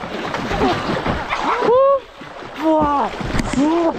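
Water splashing and sloshing as people jump in and swim in Kaptai Lake, close to the microphone, with excited voices talking and shouting over the splashes.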